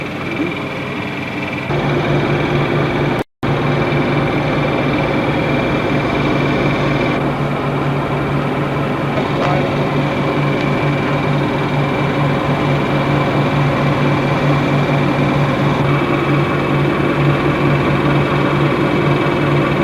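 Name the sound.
boat engine running in the harbor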